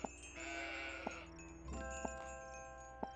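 Goats in the game Old Man's Journey bleat in a long, wavering cry, followed by a shorter call, over a soft musical backdrop with light periodic ticks.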